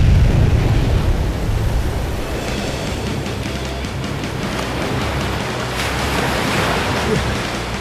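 Flood water rushing from a blown-up dam in the video game Fist of the North Star: Ken's Rage, a loud, continuous roar of surging water with a broad wash that swells slightly near the end.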